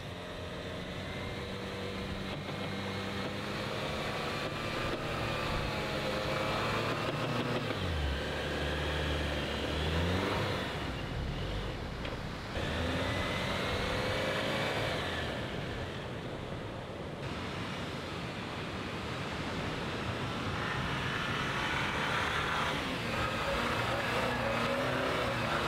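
A Jeep's engine strains and revs steadily on a Kauai beach while trying to climb out of soft sand, a loud continuous drone mixed with wind and surf throughout.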